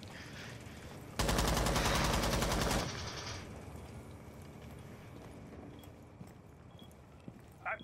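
A burst of rapid shotgun fire in Rainbow Six Siege, a dense loud volley lasting under two seconds, followed by quieter game ambience and faint scattered clicks.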